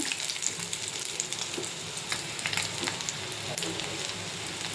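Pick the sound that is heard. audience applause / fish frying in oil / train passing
fish frying in oil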